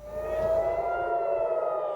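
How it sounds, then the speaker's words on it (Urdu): Air raid sirens wail in Israel, a steady sustained tone with a slight waver, fairly loud and continuous with no voices over it. "اسرائیل میں بھی آج صبح سائرن گونج رہے تھے۔"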